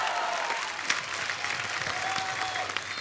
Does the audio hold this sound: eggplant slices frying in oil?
no